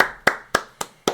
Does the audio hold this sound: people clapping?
yes